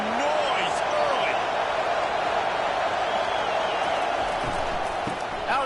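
Stadium crowd in a PS5 college football game with the Virginia Tech Hokies: a dense, steady roar of many voices that holds loud and unbroken throughout, with a few brief whoops rising above it.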